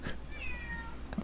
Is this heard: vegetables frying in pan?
no